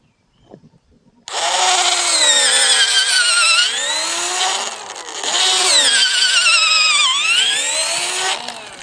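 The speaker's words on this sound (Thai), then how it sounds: "ก็ใช้สว่านเจาะครับ เจาะก็เจาะปักลง" A power drill whines steadily at high speed for several seconds, its pitch dipping briefly as it bores into the wood of a durian tree, close and loud.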